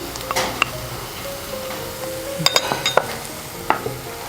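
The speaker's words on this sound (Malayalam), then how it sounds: "ഇളക്കി കൊടുത്തുകൊണ്ടിരിക്കണം, അടിയിലൊന്നും പിടിക്കാതെ" Chicken curry masala stirred in a pan for a Kerala-style chicken curry: a low sizzle with a spoon scraping and tapping the pan in a few sharp clusters, close and alone.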